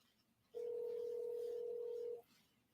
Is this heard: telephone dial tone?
yes